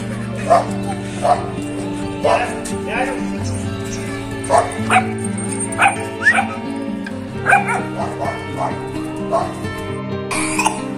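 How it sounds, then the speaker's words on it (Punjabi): A female dog yips and barks in short, repeated bursts with occasional whimpers, close and loud, while someone talks over the noise. "ਆ ਦੇਖੋ ਜੀ ਮੇਰਾ ਮੁੰਡਾ ਲਿਆ ਰਿਹਾ ਕੁੱਤੀ ਨੂੰ"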